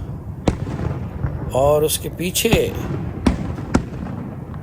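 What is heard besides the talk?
fireworks display at Niagara Falls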